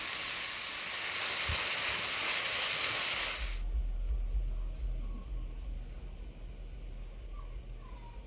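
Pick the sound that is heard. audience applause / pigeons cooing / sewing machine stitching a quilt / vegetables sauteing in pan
vegetables sauteing in pan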